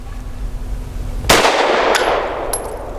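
A single loud, sharp pistol shot from a SAR USA P8L firing frangible ammunition cracks nearby after a low hum, its echo ringing off, followed by two faint metallic clinks.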